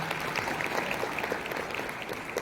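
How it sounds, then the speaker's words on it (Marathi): An audience at a school's general parents' meeting claps loudly and steadily, a dense, continuous wash of applause lasting a couple of seconds with no voices on top. "त्यांच्यासाठी एकदा जोरदार टाळ्या वाजवा."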